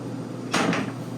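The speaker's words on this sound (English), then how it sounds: "A privacy door between the living area and the master bedroom that comes across" A sliding privacy door between the living area and master bedroom of a 2024 Newmar King Aire 4531 motorhome, one short, close rolling swish and soft thud against quiet room tone.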